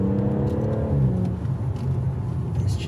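A BMW M140i on PS4 tyres with a locking differential pulls around a corner, a steady low engine drone and whir under load, close and sustained with slight swells, no talking.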